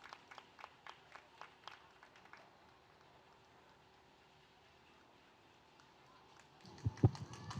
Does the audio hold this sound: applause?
yes